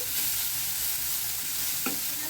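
Green milkweed flowers (jukti phool) stir-frying in a pan with salt, a steady soft sizzle and light scraping of the spatula close by, no voices.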